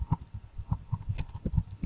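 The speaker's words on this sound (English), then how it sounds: "I am typing question number 1" Quick, irregular clicks of keys being typed on a keyboard, close and crisp, in an uneven rhythm with no talking.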